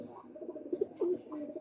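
Soft, close cooing of breeder pigeons in a loft, several low throaty coos rising and falling in short phrases, with faint background murmur.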